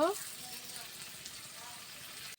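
Chopped tomatoes go into a pan of frying shrimp, which keeps up a soft, steady sizzle with a faint crackle. The sizzle is fairly quiet and continuous and cuts off sharply at the end.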